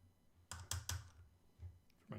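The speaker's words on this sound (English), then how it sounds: "I wasn't listening because I was trying to type this out." Keystrokes on a computer keyboard: a quick burst of loud clicks, then a couple of softer isolated taps and a final key press, close to the microphone with no talking.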